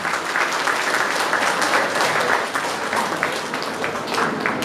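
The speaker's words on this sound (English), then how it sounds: "Please give him a loud round of applause." Loud, sustained applause from an audience at a school's Rabindra Jayanti and annual award ceremony, with dense clapping continuing steadily through the whole stretch.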